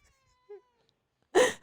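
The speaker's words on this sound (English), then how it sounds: "You can hear her meow." Short domestic cat meow, faint and distant at first with a small squeak, then a louder close meow near the end, set against near silence.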